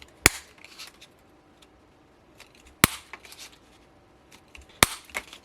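An old half-inch circle punch pierces card or paper, making three sharp snapping clicks spaced a few seconds apart, close and crisp, with soft rustling handling sounds in between.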